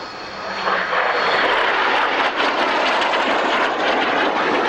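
A Hawker Hunter jet roars overhead at an airshow at Kemble Airfield, its loud, broad engine noise swelling in and sustaining throughout, close and dominant with no talk.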